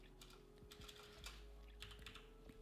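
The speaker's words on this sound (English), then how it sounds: "oh, I'm typing" Quiet, rapid clicking of keys on a computer keyboard, a steady patter of keystrokes close by.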